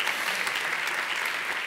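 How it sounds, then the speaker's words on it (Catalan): Audience applause at a sustainable tourism conference in Catalonia: a steady, even wash of clapping from a seated crowd, moderately loud and unbroken throughout. "Un fort aplaudiment a totes elles i tots ells per la seva generositat."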